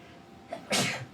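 A single sharp sneeze bursts out close by at a live esports-style community event, a brief intake followed by one loud explosive release with no talking over it.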